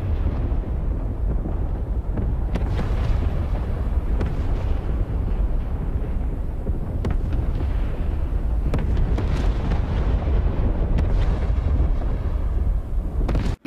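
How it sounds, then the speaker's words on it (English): Explosions from a rocket strike on an airbase in the flight simulator DCS: a continuous heavy rumble of blasts with scattered sharper booms and cracks rolling over one another, loud and sustained, no voices. "There's explosions just happening all over the base because they've managed to get through"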